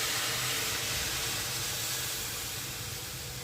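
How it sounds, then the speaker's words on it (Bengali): Water is poured into a hot pan for Bengali-style oats khichdi, producing a loud, continuous steamy hiss that fades only slightly over a few seconds, close and with no voices. "এবার জল দিয়ে দিচ্ছি।"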